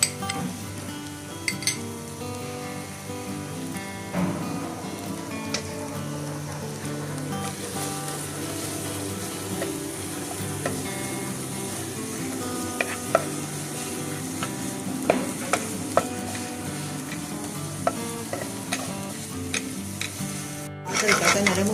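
Half a teaspoon of oil with small onions softening in a pan over the flame, a soft continuous sizzle with occasional stirring scrapes and clinks of a utensil against the pan, over low tonal background music.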